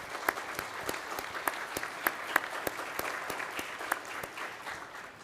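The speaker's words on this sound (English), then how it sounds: "please stand and get a round of applause for all your help as well" Modest applause at a university degree celebration, with a smaller group clapping steadily and individual claps standing out distinctly, fairly close, with no talk over it.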